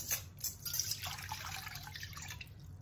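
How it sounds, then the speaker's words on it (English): Water is poured into a mixing bowl while making black kutsinta, a short trickling splash with dripping detail, fairly quiet under a faint high steady tone and no speech. "So first we'll add the water."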